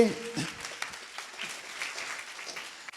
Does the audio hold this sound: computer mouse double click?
no